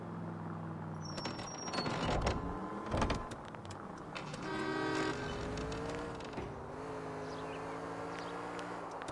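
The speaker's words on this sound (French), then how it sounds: "le bruit de la voiture sonne comme une voiture de sport" A sports car engine in the video game L.A. Noire revs and drones at moderate volume, rising and shifting pitch over several seconds, with a few sharp mechanical clicks near the start.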